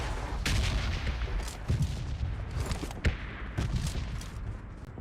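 Gunfire in a video game battle: scattered sharp shots and heavier booms strike at irregular intervals over a dense, rumbling background of fire, with no talking.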